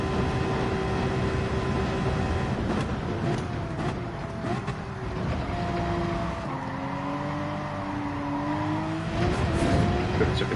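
Race cars in Gran Turismo 7 during an online Nations Cup race, with a Supra close behind, roar steadily throughout, rising and falling engine tones shifting between gears, with brief tire squeals mixed in.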